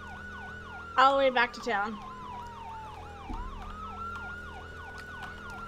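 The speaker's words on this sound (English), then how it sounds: "Put sirens on for a minute." A wailing siren cycles up and down continuously at moderate distance, with a man's brief speech cutting in over it near the start.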